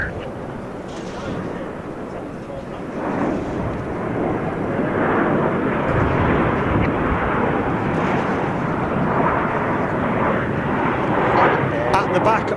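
Royal Air Force Typhoon display team jets sweep past in formation at a NATO Days airshow, a loud, sustained roar that swells after a few seconds and holds strong to the end, with commentary voices faintly underneath.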